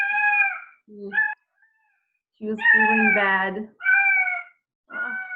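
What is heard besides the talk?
pet cat meowing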